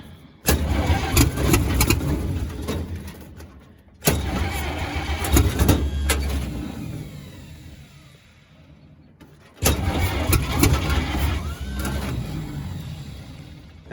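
A WWII-era vehicle's starter cranks its engine in three long, loud attempts, each a rough churning grind lasting several seconds before fading, with quiet gaps between tries and no catch.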